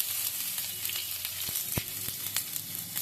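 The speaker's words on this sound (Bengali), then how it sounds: "এবার আমি দিয়ে দিচ্ছি পেঁয়াজ কুচানো" Chopped onion hitting hot oil in a pan with ginger and garlic for dhaba-style tadka dal, giving a steady close sizzle with a few sharp crackles and utensil clicks.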